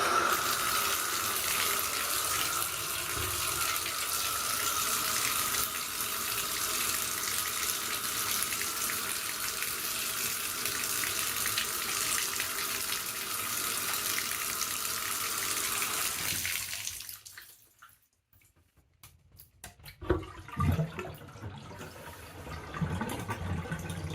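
Tap water runs steadily into an apartment sink for about sixteen seconds, then shuts off, leaving gurgling drain sounds and faint clatter.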